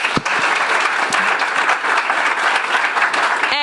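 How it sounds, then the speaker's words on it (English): A crowd at a communication panel event applauds a guest, a dense, even wash of clapping that holds steady and loud for several seconds before a brief tone cuts in at the end. "Please give a round of applause to my friend Karen."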